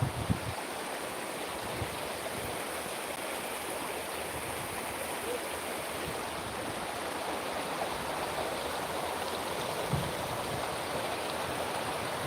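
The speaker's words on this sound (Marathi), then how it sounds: "पाणी खूप मोठ्या प्रमाणामध्ये वाहत आहे" A continuous, powerful rush of rain-swollen stream water flows heavily and evenly throughout, with no voices standing out.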